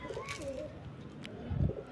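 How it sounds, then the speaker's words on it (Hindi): A green high flyer pigeon, a wild-caught bird, gives a low, brief coo near the end over a busy background with faint voices nearby. "बहुत ही बेहतरीन कबूतर, हरा कबूतर है ये।"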